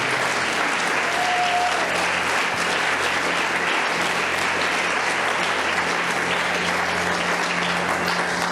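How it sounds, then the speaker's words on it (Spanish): A congregation at a church's 60th anniversary service applauds in a dense, sustained burst of clapping that holds at an even, loud level throughout. "Dele aplausos al Señor"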